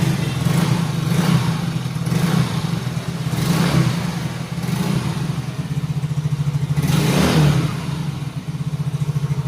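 A Yamaha Mio J scooter, just repaired after hard starting and a blinking injection warning light, idles close by and swells in a few light throttle blips, its steady mid-pitched engine drone rising and falling with no voices over it.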